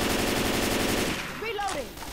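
Rapid automatic gunfire in the zombie shooter game Left 4 Dead 2, a dense loud burst of shots for over a second before it stops and a voice speaks briefly.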